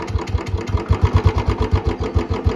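Royal Enfield Bullet 350 single-cylinder engine with a short bottle silencer and C-bend pipe idling at very low RPM, a steady close thumping beat of rapid even pulses with no talk.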